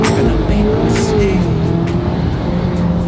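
A sports car launches from a standstill as its engine note climbs and tires squeal loudly and briefly, followed by continued close, loud engine and road noise.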